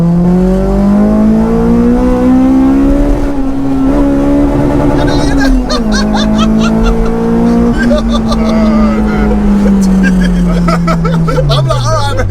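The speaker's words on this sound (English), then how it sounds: "I want you to just bounce it off red line in second gear before you change" A modified Honda with a VTEC engine revs hard toward the red-line limiter in second gear, its loud drone climbing and holding high before tailing off, heard from close inside the car.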